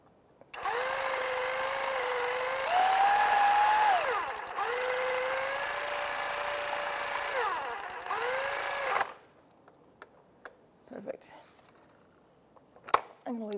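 Electric ratchet snugging a crank sensor bolt on a 2005-2010 Chevrolet Cobalt, two sustained whirring runs of several seconds each with a rising pitch as it tightens, then quiet clicks and handling noises.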